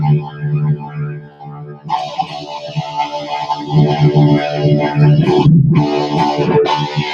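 Overloaded guitar through a Blackstar amp channel, dense buzzing distortion swelling after a quieter start, with sustained notes cutting in and out near the end, loud and close.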